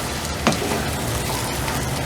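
Onion and garlic fry in oil over a high flame for chicken yakhni pulao, a loud, steady close-up sizzle with a couple of brief stirring clicks and no voices.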